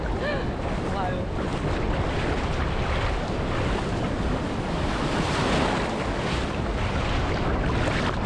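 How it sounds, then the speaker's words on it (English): Heavy ocean surf surges steadily onto a beach at Uluwatu or Canggu in Bali, a loud continuous wash of breaking waves with wind buffeting the microphone and no voices. "the waves can be very scary"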